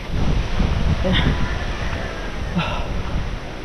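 Strong outdoor wind buffets the microphone in a continuous roaring rush that swells and eases, with a faint voice briefly under it.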